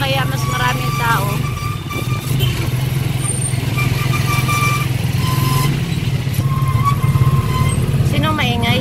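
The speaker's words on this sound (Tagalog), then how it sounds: "Tricycle na ang sinakyan natin." Motorized tricycle riding through market traffic, its engine droning loud and close throughout, with horns and surrounding street noise while people talk.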